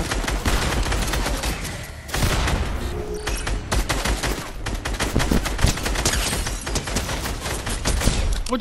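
Dense, loud automatic gunfire in the video game Fortnite, rapid shots fired nearly continuously for several seconds, close and unbroken, with no talk over it.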